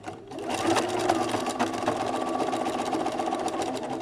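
A sewing machine runs steadily, its rapid mechanical stitching whirring close and continuous.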